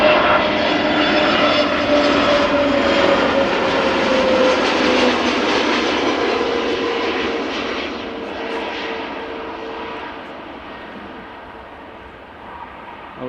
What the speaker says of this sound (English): a Neo arriving from London Luton. A320 Neo.